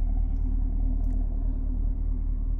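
A sedan's engine idles with a deep, steady rumble through quad exhaust tips, close by and constant for a few seconds with a low pulsing throb and no talk.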